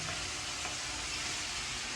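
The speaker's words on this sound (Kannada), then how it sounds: "2 ಮಿನಿಟ್ಸ್ ಎಣ್ಣೆಯಲ್ಲಿ ಫ್ರೈ ಆಗಲಿ." Mushrooms fry in hot oil with a steady, dense sizzle that stays at an even loudness from start to finish, and nothing else is heard over it.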